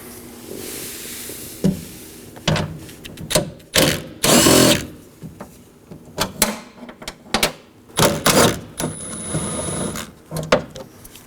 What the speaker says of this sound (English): Now I'm going to remove my window mount bolts with a 10mm.